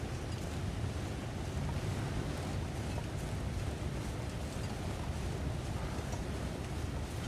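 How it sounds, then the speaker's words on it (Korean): Steady, dense rush of falling water from a waterfall in the survival video game The Long Dark, a continuous broadband roar at even loudness throughout with no voices. "폭포 소리 같거든요?"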